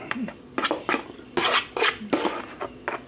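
Grits with cheese and corn being spooned onto a plate, heard as a series of close clinks and scrapes of a utensil against dishware in irregular bursts, with no talking.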